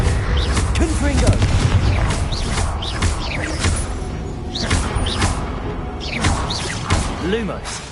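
Confringo fire curse spells blast in Hogwarts Legacy during a busy combat scene, with repeated booming bursts over dense battle noise and a voice talking at times.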